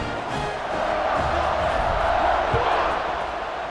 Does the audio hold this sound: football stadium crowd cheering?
yes